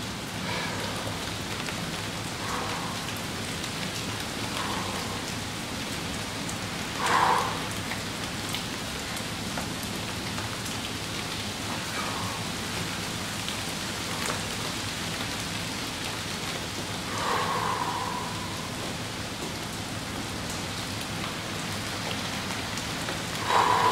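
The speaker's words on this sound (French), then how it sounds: "Sous la pluie, c'est assez spécial." Steady rain falls outdoors during a cold-water bath and workout, a constant soft hiss of drops on surfaces with a few louder close splashes or patters standing out now and then.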